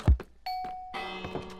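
A Minecraft doorbell rings in a game world, a bright sustained chime tone followed by a second richer ding with ringing overtones, loud and clear with no talk over it.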